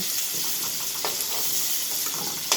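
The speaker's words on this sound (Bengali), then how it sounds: "নেড়ে চেড়ে নিয়ে আমরা আলুগুলো ভাজা ভাজা করে নেব" Potatoes sizzle and crackle steadily in hot oil, close up, with occasional stirring scrapes.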